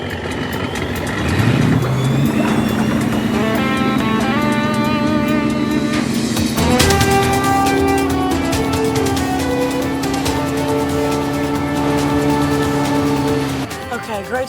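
Racing powerboat engines roar at the start of a race, a loud droning snarl that climbs in pitch as the boats accelerate, with a steady heavy rumble underneath and voices talking over the engines.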